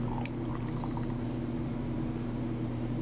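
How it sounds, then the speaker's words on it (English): Water drains steadily from the tank of a Bunn coffee brewer, a continuous trickling, gurgling flow with a low steady hum beneath it, close and moderately loud. "now I'm actually draining the water from the tank"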